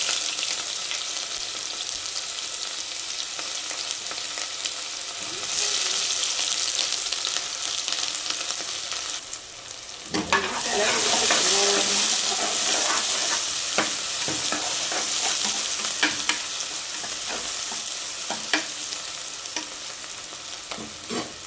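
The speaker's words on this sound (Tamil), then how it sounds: "வெங்காயம் நல்லா வதங்கட்டும்" Chopped onions with a little fennel sizzle loudly in hot oil for a Tamil-style spicy mutton curry, with repeated close scraping strokes of a spatula stirring them, the frying growing fuller partway through.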